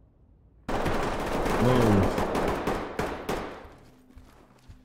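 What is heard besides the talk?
gunfire in Ready or Not video game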